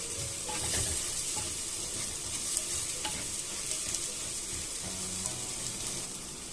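Coconut fish curry being stirred in a pan, with a steady soft sizzle and scraping of the spoon running throughout, moderately close and without any voices.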